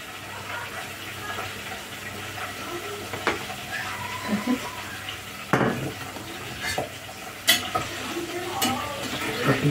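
Lemon and garlic sour sauce being stirred in a pan on a kitchen stove, with a steady sizzle, scraping utensil clinks and a few sharper knocks against the pot, close and continuous.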